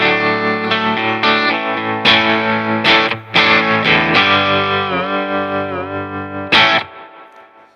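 Electric guitar played through a Fender Princeton tube amp with its spring reverb and vibrato, ringing sustained chords and single notes with a few sharp attacks, warm and slightly driven, reverb tails trailing off at the end.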